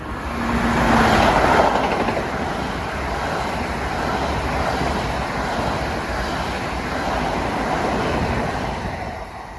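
A Long Island Rail Road train runs past Forest Hills station in a steady, loud rolling roar that swells early and holds for several seconds, with no voices.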